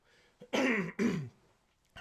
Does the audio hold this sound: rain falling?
no